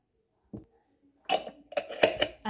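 A cabbage and beetroot salad seasoned with black pepper and salt, shaken in a bowl: a single soft knock, a pause, then a cluster of quick rattling clinks and taps against the bowl.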